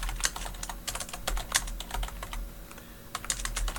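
Rapid typing on a computer keyboard, close and fairly loud, with dense irregular clatter of key presses running throughout and only a brief lull near the end.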